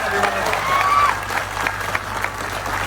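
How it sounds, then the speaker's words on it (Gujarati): An audience applauding a film team at a screening inside a jail, a dense, steady wash of clapping from a crowd that holds for the whole stretch. "એકવાર જોરદાર તાળીઓથી સમગ્ર લાલોની ટીમ માટે આપણે"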